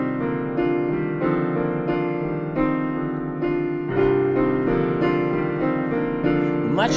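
A blurry wash of extended, overlapping harmonies in an impressionistic musical style, with sustained chords shifting gently and evenly, played steadily without any voices.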